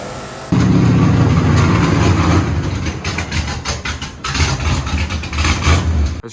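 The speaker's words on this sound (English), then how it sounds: "I'm not sure why this truck should be knocking" A truck engine with a suspected knock, revved hard at wide-open throttle: a sudden loud roar after a brief lower rumble, holding high then dipping and surging again, with a rapid rattling pulse running through it, close up.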